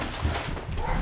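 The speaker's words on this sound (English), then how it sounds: "She set the dogs off." Dogs barking upstairs above a basement in a trailer, heard as muffled, distant, low thuds through the floor over a steady background hum, with no nearby voices.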